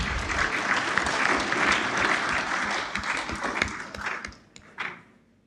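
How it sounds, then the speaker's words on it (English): Audience at a university innovation week and industry summit giving a round of hand claps, dense and steady applause that thins out and fades near the end with a few last scattered claps. "Please let us appreciate them with a hand clap."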